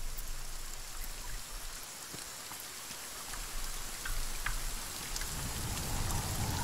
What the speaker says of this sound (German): Der Regen tut auch nicht gerade gut.